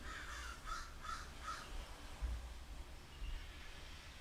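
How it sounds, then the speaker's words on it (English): Four crows caw in a quick, evenly spaced run close outside a window, then fall silent over a steady low room hum. "Apologies if you hear some crows in the background."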